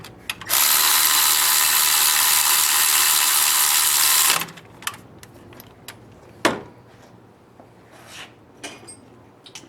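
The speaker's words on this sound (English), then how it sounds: "we're going to use the electric ratchet again" An electric ratchet screws engine bolts into an EJ25 Subaru boxer engine on a 2006 Forester, one loud steady whirring run of about four seconds, followed by quieter clicks and handling knocks nearby.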